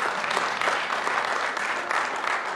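Steady audience applause at an awards gala, a dense crowd clapping continuously at moderate volume with no break.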